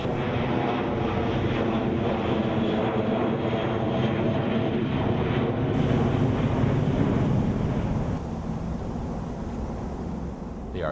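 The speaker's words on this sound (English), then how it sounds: "I'll gladly exchange the roar of jet engines for the quiet of the forest." A jet airliner passes overhead near a Florida forest where vervet monkeys live, its engines a loud, steady roar that holds for the full stretch and eases slightly toward the end, with no talking.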